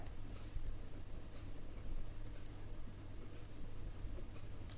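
A pen writes on paper while a maths problem about circle radii is worked out, a soft continuous scratching close by with faint strokes and no talk.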